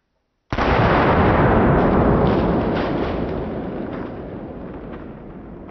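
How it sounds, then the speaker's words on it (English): An AR-15 fires M855 green tip rounds into watermelons outdoors, a single loud blast that rolls into a long, slowly fading roar of reverberation. "The M855 is destroying these melons."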